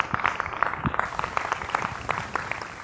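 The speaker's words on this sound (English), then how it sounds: "Give yourselves a round of applause and give everybody a round of applause" Conference audience clapping at a motivational talk, a fairly faint scattered patter of hands throughout, no voices over it.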